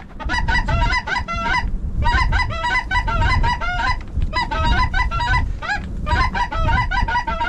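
Snow geese honking in a dense, continuous chorus over a field during a duck hunt in blizzard conditions, loud and close with repeated overlapping calls and brief lulls.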